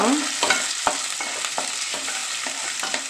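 Chopped green chillies drop into hot oil in a pan and fry with a steady sizzle, punctuated by several sharp stirring clicks and scrapes at an uneven rhythm.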